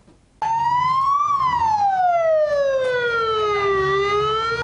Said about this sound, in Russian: На Артасайском рынке столицы сегодня раздался вой противопожарных сирен